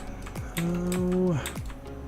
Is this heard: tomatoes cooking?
no